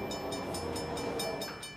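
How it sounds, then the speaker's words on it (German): Cartoon toy train rolling along the track, towing another train back to the train factory. It gives a steady, fairly loud rumble with a regular clickety-clack beat and a faint high whistle-like tone. "Genie koppelt sich an Sing Sing und schleppt sie zurück zur Zugfabrik."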